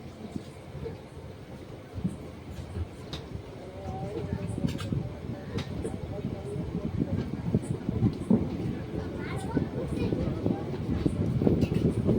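A passenger train rumbles steadily at a dark station while an 8-coach mini Vande Bharat passes it on a crossing, the low rolling noise building gradually over the whole stretch with faint clicks above it.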